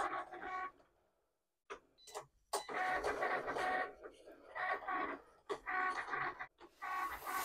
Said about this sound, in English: Then now the Cricut will go ahead and cut it twice.